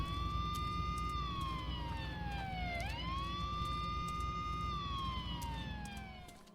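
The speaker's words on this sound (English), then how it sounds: "I hope you like police sirens," A police car siren in the video game Silent Hill Downpour wails continuously, its pitch sweeping down and back up in long slow cycles over a low rumbling background.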